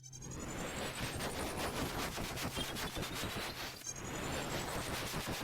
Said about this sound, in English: Fireworks going off.